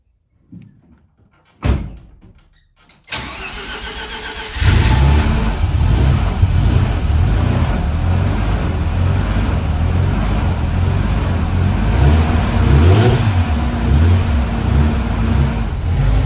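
A Mazda RX7 rotary engine with a newly installed dual pulley: a door thunks shut, then the engine cranks and catches and settles into a loud, steady warm-up idle with slight swells in revs.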